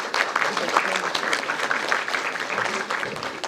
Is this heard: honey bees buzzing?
no